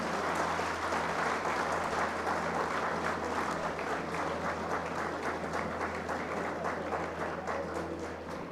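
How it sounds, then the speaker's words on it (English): Sustained applause from a large audience at a Smart India Hackathon 2023 valedictory ceremony, continuous dense clapping that holds steady for several seconds with a low background hum. "please put a big round of applause for the student volunteers who have presented last"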